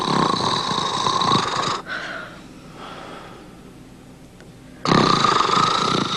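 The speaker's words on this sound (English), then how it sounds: "Ted, you're snoring again." A man snores loudly in bed in two long, rasping inhaled snores separated by a quiet pause, close up and with no talk.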